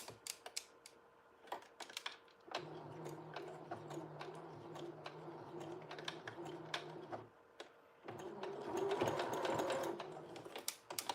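A sewing machine back-stitches during clothing alterations, running in a steady rapid stitching stretch and then a louder burst, with sharp clicks throughout, fairly quiet and without talk.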